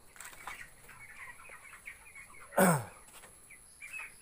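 Young 45-day-old chicks recovering from a cold, in a coop, give one loud, sharp squawk midway through, over faint scattered chirps and rustling, with no talking.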